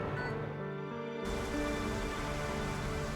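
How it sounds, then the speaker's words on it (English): Rain in the video game Trauma Center: Second Opinion, a quieter start before a steady, full downpour sets in and holds loudly to the end. "Uh-oh, looks like rain."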